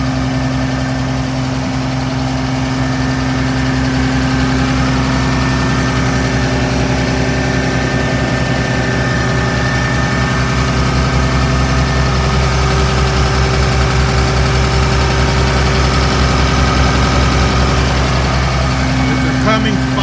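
A 5.9 liter Cummins diesel idles steadily and loudly in a 2006 Blue Bird 26-passenger bus, its low rumble continuous and even for the whole stretch.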